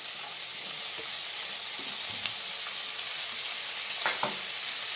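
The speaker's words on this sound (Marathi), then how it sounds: "थोडं मीठ टाकते चवीनुसार आणि कांद्याची पात टाकून देते धुतलेली आपली कांद्याची पात" Spring onion greens with salt are stir-fried in a pan, giving a constant soft hiss of frying broken by occasional light scrapes and taps of a spatula, close and without voices.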